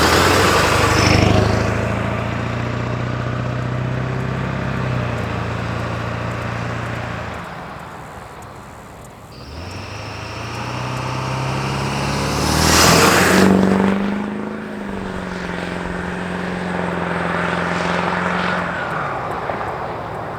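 A straight-piped 1999 Ford F250 with a 7.3 engine and deleted muffler revs and pulls away, its loud exhaust drone rising and falling across several accelerations before passing close by and fading.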